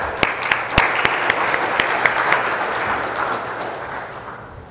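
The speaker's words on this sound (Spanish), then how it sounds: "recibámoslo por favor con un fuerte aplauso" Audience applause welcoming a speaker at a business seminar on export companies, a dense wash of clapping with a few sharp louder claps near the start, gradually fading away.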